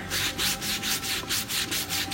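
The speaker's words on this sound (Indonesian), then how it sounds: "kita ngamplasnya mode silang" A car body panel is sanded by hand with a sanding block in a crosswise pattern during filler and guide-coat paint prep. Steady, rhythmic back-and-forth rasping strokes come up close, about four per second, with no talking.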